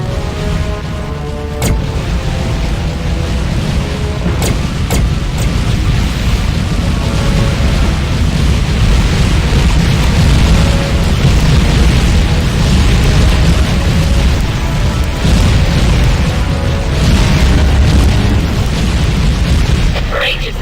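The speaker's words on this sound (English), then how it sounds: "Now that was an explosion, folks." A ship explodes in the space combat game Tachyon: The Fringe, with a loud, sustained rumbling boom that fills the whole stretch, along with crackling bursts and radio-style chatter.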